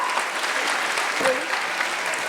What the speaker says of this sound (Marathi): चला या परफॉर्मन्स साठी परत एकदा टाळ्यांचा कडकडाट होऊ द्या